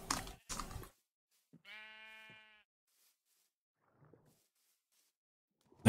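A single Minecraft sheep bleats once, short and clear against near silence, with a few brief game noises before and a sudden loud thump at the end.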